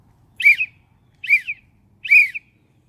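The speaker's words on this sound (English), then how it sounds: "Same principle with the whistle. Give it 3 quick blasts," An emergency whistle gives three quick, shrill blasts, evenly spaced and loud against near silence.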